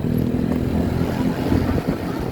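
A Honda Vario 125 scooter engine revs and pulls under acceleration, a steady close buzzing drone with slight rises in pitch, and no one talks over it.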